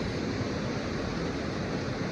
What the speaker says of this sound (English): So the creek's running high.